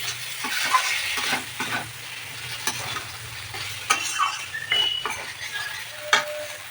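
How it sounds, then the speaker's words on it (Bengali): Fish curry cooking in a pan on a home stove: soft sizzling and frying under intermittent scraping and stirring, with occasional light clinks of a utensil against the pan, fairly close and moderately quiet. "এই দেখো আমার রান্না হচ্ছে, মাছের ঝোল করছি এখন।"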